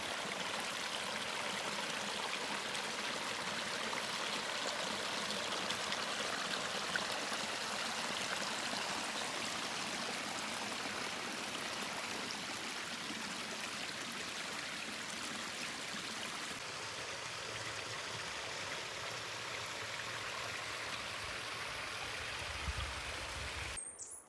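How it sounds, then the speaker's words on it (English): A waterfall on a wilderness canoe route at Cliff Lake, Temagami, gives off a steady broadband rush of falling water, constant and unbroken, with no voices. "As I'm filming the waterfall"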